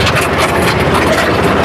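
A Mahindra mini tractor drives a Birbal rotavator through farm soil in Maharashtra, a loud, close, steady engine drone with dense churning rumble and no pauses or talking.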